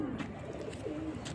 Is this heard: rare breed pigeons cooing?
yes